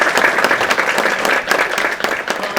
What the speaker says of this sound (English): So one round of applause before we